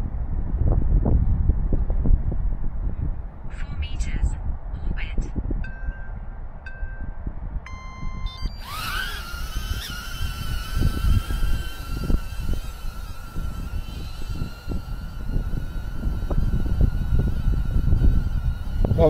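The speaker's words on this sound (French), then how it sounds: "Là il y a beaucoup de vent aujourd'hui, énormément de vent" Steady, loud wind buffeting a microphone outdoors during a bikepacking ride with a HoverAir X1 Pro drone, with low rumbling gusts; partway through, a higher tonal whine joins in the background.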